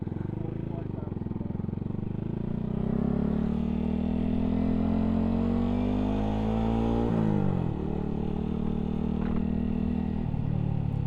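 Yamaha YZF 125 Gen 2 motorcycle pulling away under a new rider, engine rumbling and revving up through rising pitch, then dropping briefly before picking up again, loud and close.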